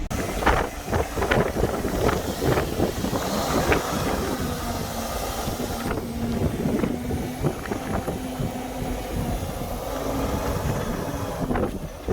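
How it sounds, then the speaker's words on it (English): Strong outdoor wind buffeting the microphone with loud, uneven low rumbling gusts that last throughout, with faint engine-like hum beneath. "So the wind is like super starting to rip through here"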